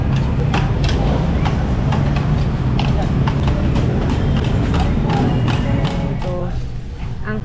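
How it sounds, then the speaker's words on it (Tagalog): Busy, windy Manila street in heavy traffic: a dense, steady roar of engines and wind across the whole stretch, with scattered knocks and thumps and faint voices mixed into the din. "Yan ang ingay ng Maynila."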